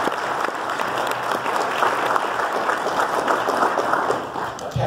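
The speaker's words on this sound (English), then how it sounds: "Would you please give them a round of applause?" Warm, continuous applause from a concert audience at a jazz and barbecue night in a church hall, many hands clapping together at an even level throughout without a break.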